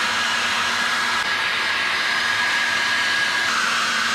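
A heat gun blows a steady, even rush of hot air onto a vinyl chassis protector sticker for an Arrma Kraton 6s EXB V4 RC car, continuous and close with no talking.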